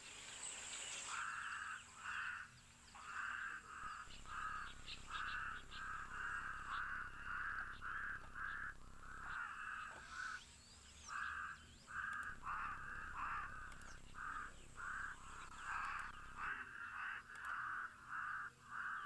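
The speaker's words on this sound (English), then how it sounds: "interesting sounds going on with those Cape Crows." Cape crows calling in repeated harsh, rhythmic bursts from close by, the calls coming in quick runs with short pauses, set against a steady background of insects and other birds outdoors, with a blacksmith lapwing nearby.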